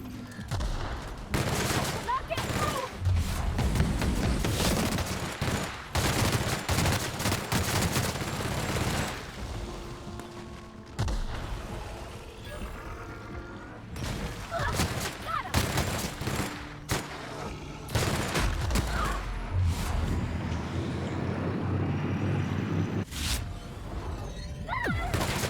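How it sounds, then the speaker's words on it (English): Gunfire in the video game The Outer Worlds crackles in repeated bursts and rapid volleys, with sharp shattering impacts, continuing across a busy firefight while a player's voice talks at times in between. "you might want to start shooting there"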